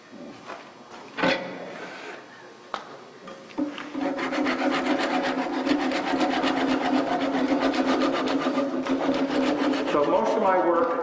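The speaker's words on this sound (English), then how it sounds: "So, of course, with the lathe off, I'm going to saw the rest." A hand saw cuts through a wooden workpiece still mounted on a stopped lathe: a few scattered knocks first, then rapid, steady back-and-forth rasping strokes that grow louder and continue to the end.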